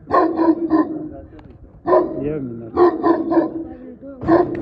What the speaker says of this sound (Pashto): دغه چې دي ډېر خطرناکه ټایپ سپیان معلومیږي